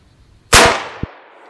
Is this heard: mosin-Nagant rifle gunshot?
yes